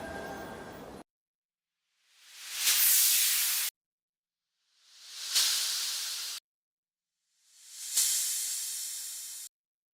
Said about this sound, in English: let's find a white noise.